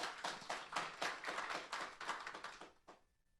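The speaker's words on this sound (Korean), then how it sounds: "여러분 박수 부탁드리겠습니다." A conference audience at a mineral resources forum applauds as a presenter is introduced, a burst of many hands clapping that stays fairly even for about three seconds, then fades out abruptly.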